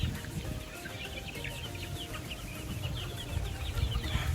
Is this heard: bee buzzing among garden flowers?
no